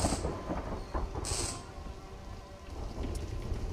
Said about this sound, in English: Thunder, man.